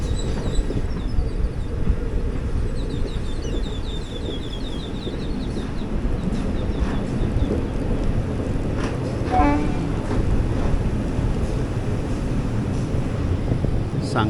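The 16766 Mettupalayam Express runs on the main line bypass, a loud continuous rumble of wheels and carriage noise with wind buffeting the microphone and a brief squeal midway.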